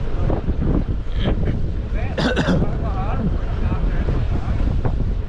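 Strong wind buffets a fishing boat out at sea on a deep-water surmai trip off Mumbai, a steady loud rush of wind over the microphone with a voice talking through it.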